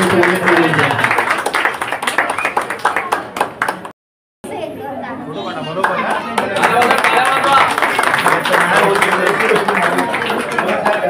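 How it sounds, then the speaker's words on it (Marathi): Clapping and crowd chatter at a Marathi wedding-match ceremony as the bride and groom feed each other sweets, a dense, steady patter broken by a brief silent gap, with voices mixed in throughout. "आपण सगळ्यांनी टाळ्यांचा गजर"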